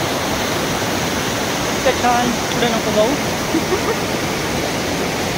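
Water crashes steadily at the Chorchavdi waterfall near Dahivad, Deola, a constant broad roar filling the scene while someone speaks briefly over it midway.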